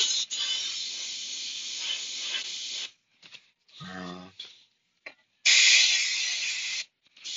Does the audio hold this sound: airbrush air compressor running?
yes